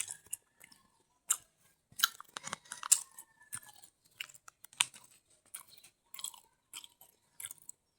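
Homemade fishballs being chewed and bitten up close, with soft crunchy bites and wet mastication coming in irregular bursts and separated by brief quiet gaps, no talking.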